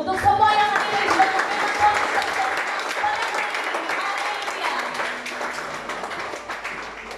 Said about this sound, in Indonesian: mari kita sama-sama tepuk tangan untuk semua yang hadir di sini.